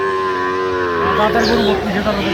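A single sustained moo from a dairy cow or calf at the Aftabganj cattle market in Dinajpur, close and loud, swelling slightly in pitch over faint market noise.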